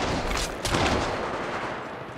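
Bursts of automatic gunfire from the mobile battle royale game Apex Legends Mobile, loud and dense over about two seconds with a sharp crack near the middle and steady rattling throughout.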